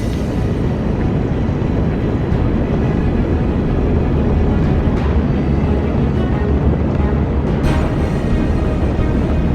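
Apollo 11 rocket lifting off in Kerbal Space Program, a loud, steady, low rumbling roar that fills the whole stretch without a break.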